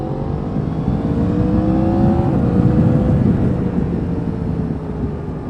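A 2019 Yamaha MT-10 motorcycle engine winds up from the saddle, a continuous loud mechanical drone with a rising and then falling pitch under heavy wind rush, steady throughout with no talking.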